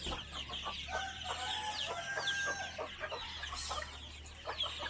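Chickens cluck steadily in a room shared with caged birds, short repeated calls overlapping one another at close range, with chirps and a low hum underneath and no talking.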